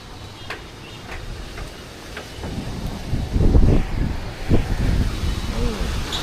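Strong Kalbaisakhi storm wind gusts across a rooftop, a rushing roar that swells and buffets louder partway through, with scattered rattling ticks.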